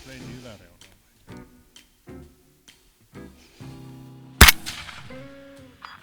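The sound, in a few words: Ensio Firearms KAR-21 .308 Win rifle shot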